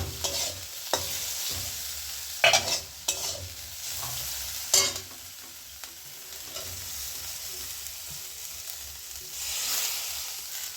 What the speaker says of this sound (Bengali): শাকটা দিয়েও আমি ভালো করে নেড়ে চেড়ে দিচ্ছি